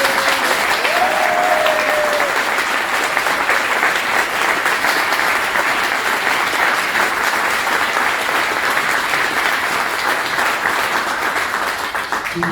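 A club meeting audience gives a sustained round of applause for rugby league figure Kris Radlinski, steady dense clapping filling the room for the whole stretch, with a brief voice fragment early on.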